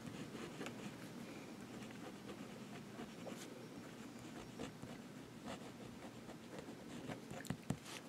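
An Eversharp 10000 fountain pen with a wet nib writing on paper with the nib reversed, a soft continuous scratching across the page, close but faint, no talking.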